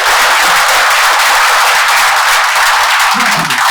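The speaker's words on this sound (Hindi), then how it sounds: "एक बार जोरदार तालियां हो जाएगा।" Dense, steady applause from a seminar audience at a business coaching talk, a continuous wash of many hands clapping loudly from start to finish with no voices over it.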